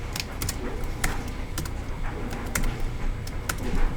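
Steady, close keyboard typing on a computer while entering a filename, with irregular clicking keystrokes running continuously and a few sharper key taps standing out.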